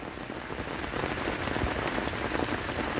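Steady rain pours down on a rainy day in a Bangladeshi village, a dense continuous hiss of drops hitting surfaces close by with no voices.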